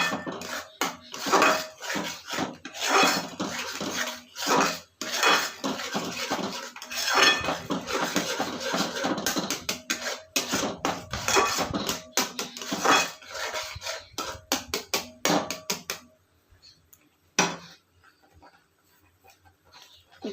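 Metal spoon scraping and clinking against a pot while sugar is added for a sweet dessert, with a busy stretch of rapid clatter and taps that thins to a few isolated clinks near the end.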